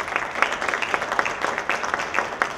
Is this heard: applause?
yes